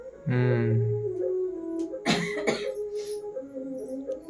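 A person coughs a couple of times close by, one deep cough followed by sharper, breathy ones.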